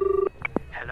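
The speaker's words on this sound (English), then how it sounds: "Get Jack Deesh on the phone." A telephone being dialed: a steady dial tone gives way to a few short, separate beeps of tone dialing, close and clear with no voices.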